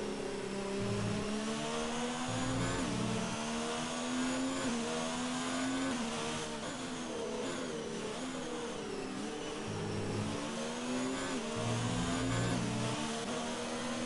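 F1 race car engines in a racing video game at the Russian Grand Prix whine and drone steadily, rising and falling as the cars shift gears. The sound is continuous, with no commentary over it.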